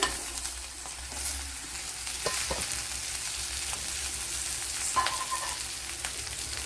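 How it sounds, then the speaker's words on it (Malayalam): Raw green cashew nuts fry in a pan, a steady broadband sizzle with occasional crackles and pops, loud and close, with no voices. "ഇതിനകത്തേക്ക് ഈ കശുവണ്ടി ഇട്ട് കൊടുക്കാം"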